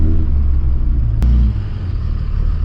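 A wrecked Dodge Cummins 4x4 pickup bought at auction, driving with a loud, close diesel engine rumble that holds steady, then eases slightly partway through.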